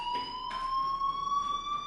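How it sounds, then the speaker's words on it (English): A fire alarm rings steadily in a school corridor in the Life is Strange video game, a continuous electronic tone with harmonic overtones holding level through the clip, with no one speaking. "do you hear that fire alarm? That means you should be outside."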